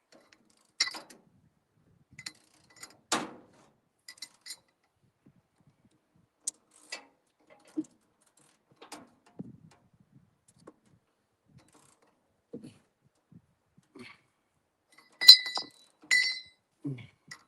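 Sparse metallic clicks, clinks and creaks from a rusty mechanism being cranked by hand with a wrench, scattered irregularly at close range and mostly faint, with a few sharper knocks.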